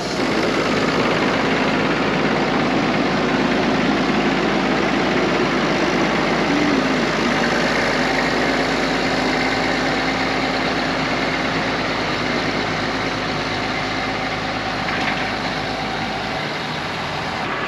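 A farm tractor's engine idles close by during haylage bagging, giving a loud, constant low diesel drone that runs unbroken through the whole stretch with no talk.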